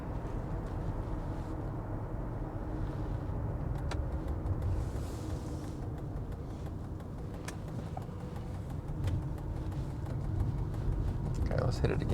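A car picks up speed along a road with a steady, rising engine rumble heard from inside or nearby, moderately loud, with people talking over it.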